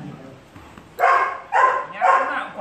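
A dog being trained barks three times in a row, loud and close, over a background of murmuring voices.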